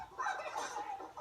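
A pet hen clucking close by in a short burst of rapid, slightly raspy calls, with no talking over it.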